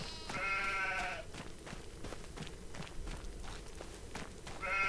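Sheep bleat in Farming Simulator 25, with a strong bleat at the start and another at the end, and repeated soft footstep-like thuds from the flock moving in between.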